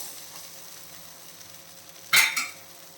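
Ragi and moringa batter frying in a little oil in a pan, with a faint steady sizzle followed by a brief louder sputtering burst near the end, close by and without talk.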